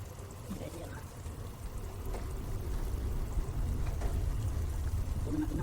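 Coconut milk poured into a cooking pot of string beans, eggplant and milkfish, a steady soft liquid pour that is faint over a low background rumble.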